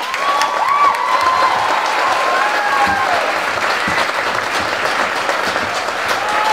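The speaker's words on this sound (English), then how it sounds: "Give them another clap." Loud, sustained applause from an audience with cheering and whoops mixed in, a dense wall of clapping that stays even, with voices and shouts rising above it.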